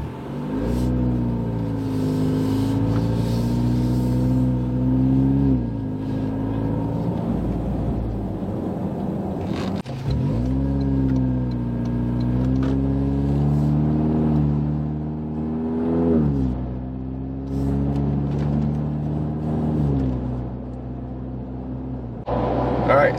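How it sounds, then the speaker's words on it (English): A 2024 Toyota Tacoma with a carbon high-clearance exhaust dump kit drones steadily while driving, its low exhaust note rising and falling through several gear changes and throttle swells, loud and continuous from inside the cab. "So here's a first-hand experience with the Carbon Exhaust High Clearance Dump Kit for a 24 Tacoma."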